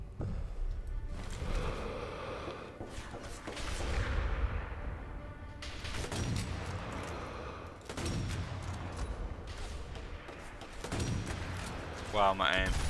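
Sniper rifle shots in the World War II shooter game Sniper Elite V2 Remastered: several heavy, echoing reports spaced a few seconds apart, each with a long tail, layered over game ambience and a voice.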